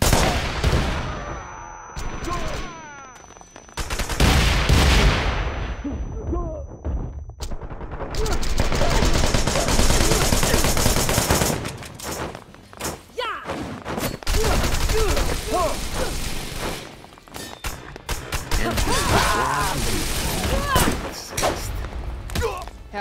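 Rapid bursts of automatic gunfire and heavy thuds from the action game Wanted: Dead, loud and dense throughout with brief lulls, mixed with shouted character voices and chaotic combat noise.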